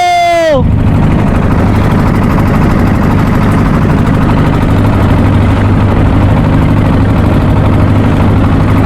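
A trawler boat's engine on the Padma river drones loud and steady with a low, rumbling, pulsing tone after a brief opening tone, continuing unbroken throughout.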